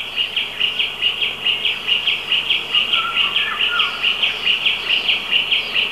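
Small birds drawn to a ficus tree's red figs chirp in a rapid, even, bright series that keeps going without a break, fairly close and loud, with no voices.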